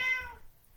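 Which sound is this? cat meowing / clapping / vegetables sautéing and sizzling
cat meowing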